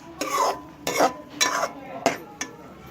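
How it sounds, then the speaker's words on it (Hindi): Egg mixture for egg macaroni being stirred in a pan, five distinct scraping strokes of a utensil in a steady rhythm, close and moderately loud, with faint sizzling underneath. "अब अच्छी तरह से हम इसे मिक्स कर लेंगे"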